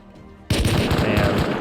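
A burst of rapid automatic gunfire erupts in the video game Rust after a quiet moment and continues as a loud, close, fast rattle of shots.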